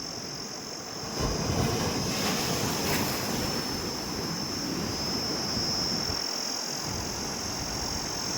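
Rough sea waves surge along the Bay of Bengal coast during a deep depression, a continuous loud roaring wash of surf with strong wind noise that swells after the first second and stays steady, with no voices.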